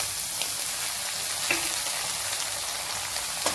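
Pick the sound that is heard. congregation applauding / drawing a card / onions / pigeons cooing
onions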